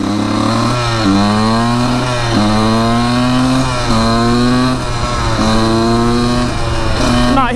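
Stock Honda CR125 two-stroke motorcycle engine screaming toward top speed, loud and close, with repeated rising pitch sweeps as it revs through gears in a steady rhythm, no talk.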